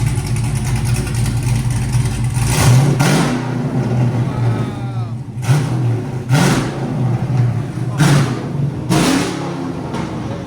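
Cammed 6.0L V8 in a 2012 Chevy Caprice Police Edition with open long-tube headers, a loud lumpy idle chop broken by several sharp throttle blips that rise and fall, close up.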